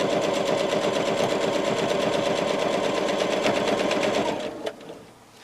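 A sewing machine runs fast and steady, stitching single-fold binding onto a fabric pot holder in one continuous rattling burst. It slows and stops near the end, and there is no talk.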